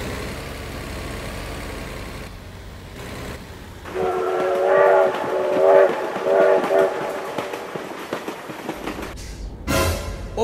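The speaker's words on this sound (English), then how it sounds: "Oh my god, train!" A train passes with a loud, drawn-out horn blast in several pulses over a low rumbling roll of the cars, then fades before a sharp noise at the end.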